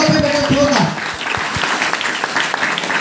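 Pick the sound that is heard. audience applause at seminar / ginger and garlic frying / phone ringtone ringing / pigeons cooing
audience applause at seminar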